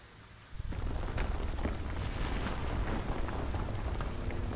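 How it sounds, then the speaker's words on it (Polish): Ground erupting in the video game Quake Survivor: a sudden loud rumbling blast kicks in after a quiet moment and then roars on as a dense, sustained low roar with crackling debris, no voices over it. "Tak, wybucha ziemia."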